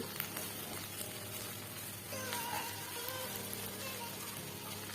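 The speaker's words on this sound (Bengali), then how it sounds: "পেঁয়াজের সাথে শুটকিটা ভালো করে ভাজা ভাজা করে নিব।" Dried loitta fish frying with onions in a pan, a steady soft sizzle and crackle with faint hissing, fairly quiet and continuous throughout, no talking.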